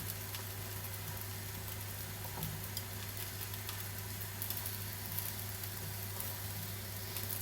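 Steady, low sizzling of flatbreads frying in a hot pan, a constant crackle with faint ticking, no voices.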